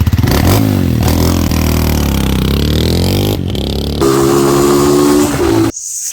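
A Honda motorcycle engine revving up and down in close repeated throttle blips, with a loud rising and falling engine note and a rough shift partway through before a sudden cut near the end.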